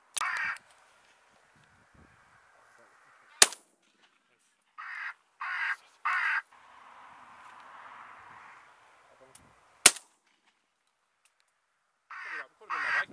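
Two sharp, loud shotgun reports crack out over stubble fields during pigeon and corvid shooting, spaced several seconds apart, while crows caw in short bursts nearby.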